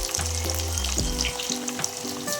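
Murungai keerai (drumstick leaf) vadai patties deep-frying in hot oil, a steady close sizzle with soft bubbling and a few low clinks of a ladle, no voices.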